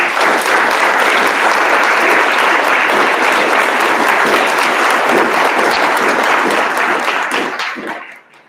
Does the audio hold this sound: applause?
yes